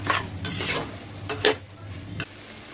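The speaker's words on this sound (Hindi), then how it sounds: "गाजर, शिमला मिर्च और इसे अच्छे से भून लेते हैं" Carrots and bell pepper frying in a pan for vegetable daliya, a soft sizzle under a few distinct stirring scrapes from a utensil, close and fairly quiet.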